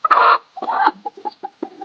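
A hen clucks loudly near the microphone in a burst of calls, then softer short clucks and peeps follow in an uneven rhythm, with recently hatched baby chicks around her.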